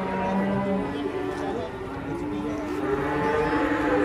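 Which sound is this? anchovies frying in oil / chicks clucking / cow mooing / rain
cow mooing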